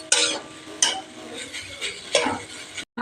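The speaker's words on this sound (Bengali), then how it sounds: "এবার এটা ভালো করে নেড়ে নেব।" Maggi noodles are stirred in a pan with a utensil, giving a few distinct scraping clinks at irregular intervals over a soft sizzle, close and clear with no talking.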